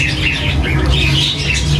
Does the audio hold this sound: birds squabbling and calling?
yes